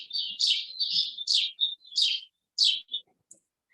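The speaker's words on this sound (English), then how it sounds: "So let's take a listen to what a house sparrow sounds like." House sparrow giving a series of bright chirps, about eight short notes in an uneven rhythm with small gaps, clear and close against a silent background.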